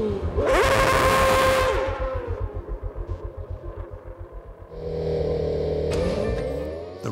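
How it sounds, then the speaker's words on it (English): An F1 car revs hard at the start grid while spinning its rear tyres to heat them, with a loud sustained roaring scream, a pulsing rumble, then another sharp rising burst. "David deliberately spins his rear tyres to make them hotter and stickier so he has more grip off the"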